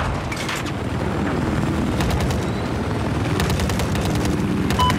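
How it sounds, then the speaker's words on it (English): A loud, continuous Battlefield 4 helicopter rotor roar with rhythmic chopping pulses, layered with bursts of distant gunfire and explosions. "Enemy helicopter spotted."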